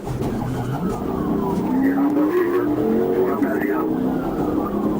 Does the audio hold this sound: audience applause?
no